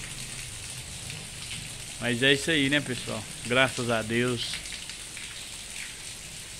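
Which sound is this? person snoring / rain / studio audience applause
rain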